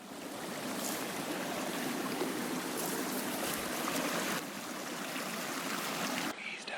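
Steady rushing flow of a Wyoming creek in elk country, a broad continuous wash of water close by that briefly dips and then fades out near the end.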